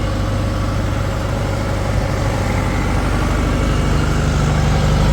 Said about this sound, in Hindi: बिल्कुल एक आवाज़ में जनरेटर चल रहा है दोस्तों।